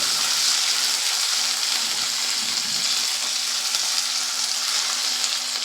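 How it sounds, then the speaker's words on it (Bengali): Onion, dried chili, bay leaf and black cumin fry in hot oil in a pan for jhal suji, a steady, close, bright sizzle that crackles continuously without pause. "পেঁয়াজ শুকনো লঙ্কা তেজপাতা আর কালো জিরে দিয়ে ভালো করে ভেজে নিচ্ছি আমি"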